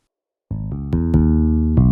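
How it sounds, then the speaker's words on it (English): Bass guitar enters loudly after a short silence and plays a quick run of deep, plucked notes that ring into one another, heard alone and up close. "And then I have this bass guitar right here."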